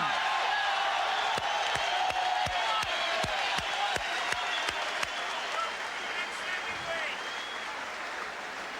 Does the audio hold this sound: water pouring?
no